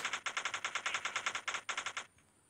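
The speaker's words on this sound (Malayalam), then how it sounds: "ആരാണ് വെടി വെക്കുന്നത്" Rapid, evenly spaced bursts of automatic gunfire in the video game Vegas Crime Simulator, close and loud, run for about two seconds and then cut off abruptly, leaving quiet.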